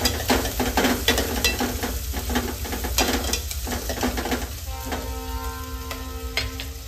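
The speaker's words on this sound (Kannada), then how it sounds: "3 ಹಸಿ ಮೆಣಸಿನ್ಕಾಯಿ ಹಾಕೋಬೇಕು. ಅದನ್ನು ಚೆನ್ನಾಗಿ ಫ್ರೈ ಮಾಡ್ಕೊಂಡಿದ್ದೀನಿ" Green chillies and onion frying in a pan for a Kannada bendekayi palya, with a steady close sizzle and repeated scraping stir strokes throughout, no talking.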